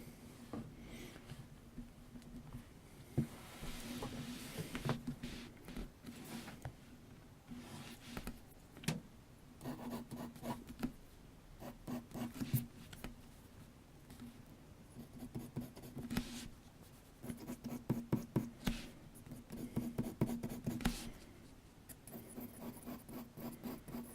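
Drawing a realistic ear on paper: close, scratchy strokes of a drawing tool repeat in quick bursts and steady rubs throughout, with a low background hum and no talking.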